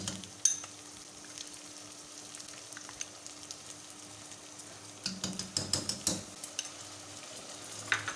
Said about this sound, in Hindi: इसको फ्राई कर लेंगे अच्छे से।